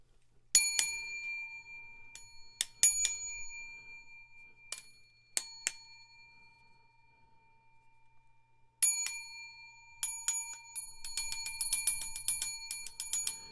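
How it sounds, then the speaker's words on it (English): A small hand bell rung as a money sound gives bright, close metallic dings, first in scattered single strikes and short pairs, then a rapid run of repeated rings toward the end. "I've got my own bell."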